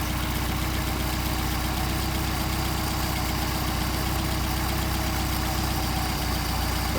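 A Mercedes 190SL engine with Solex carburetors idles steadily and loud up close, a continuous even rumble with no voices over it.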